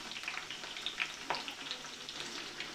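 Chopped onion frying in oil in a pot for chicken biryani, giving a steady close sizzle with faint crackles and occasional stirring clicks throughout, no talking.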